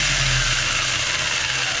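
An RC car with a Castle ESC and TP Power motor held at full throttle gives a loud, steady high-pitched electric whine with a low rumble underneath, sustained without a break.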